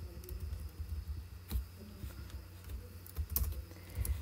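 A SQL Server DELETE query being typed on a computer keyboard, with a run of soft, uneven key presses and a few heavier thumps, close up with no speech.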